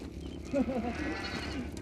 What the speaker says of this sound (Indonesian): Nih, saya bawa kambingnya.